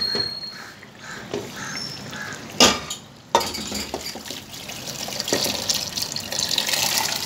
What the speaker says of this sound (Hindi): पानी समेत ही डालूँगी मैं इसे।